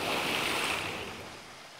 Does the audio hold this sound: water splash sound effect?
yes